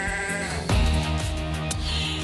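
Goats bleat loudly and close by, a long wavering call followed by further overlapping bleats, with no talking.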